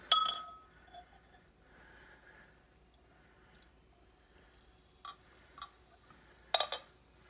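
A bottle-conditioned imported beer is poured slowly into a glass. Quiet clinks and dripping taps sound close by, with a faint fizzing pour between them and a sharper cluster of glassy knocks near the end.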